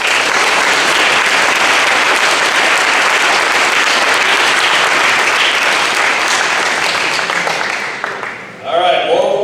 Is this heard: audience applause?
yes